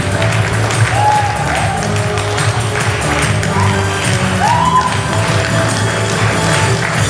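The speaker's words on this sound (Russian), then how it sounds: "Аплодируем нашим родителям." Audience applause for parents at a school's last-bell graduation ceremony, steady dense clapping from a crowd filling the whole stretch, with faint voices mixed underneath.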